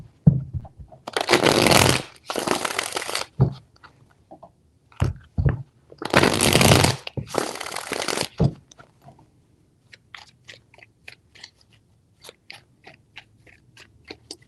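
Tarot cards are shuffled in several loud, riffling bursts of a second or two each, separated by quiet gaps with small taps and handling noises, and no speech.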